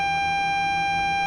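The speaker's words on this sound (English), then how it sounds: "When you hear a beep, beep, beep, beep, beep, you got to do the E" A steady electronic warning tone sounds in Train Simulator 2022, a continuous high pitched beep held unbroken and fairly loud, with no speech over it.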